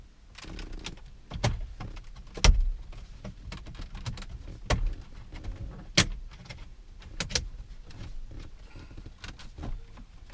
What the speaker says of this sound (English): It's just a bunch of clips here on each side of the bezel that just click back into position